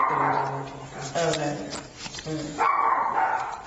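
Dogs barking in a home, several sharp barks and yips recurring in short bursts, with a person's voice speaking briefly between them.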